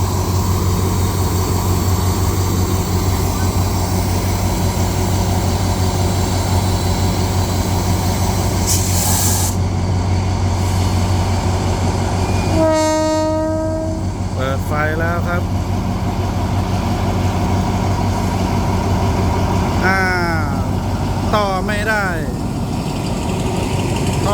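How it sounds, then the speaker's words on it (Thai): A freight train's diesel locomotive begins to move off at night, giving a steady, heavy engine rumble with brief hisses and short voices in the background. "รถเคลื่อนตัวแล้วครับ"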